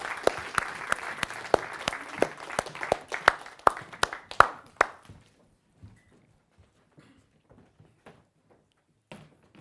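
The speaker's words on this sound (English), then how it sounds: "Give me a round of applause," A small audience claps at a live SPEAKup Challenge talk, a sparse burst of sharp individual claps that thins out and stops after about five seconds, leaving near silence with a few faint taps.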